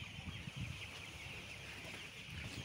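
Chickens cluck on a farm, with soft, scattered clucks set against a steady, noisy background.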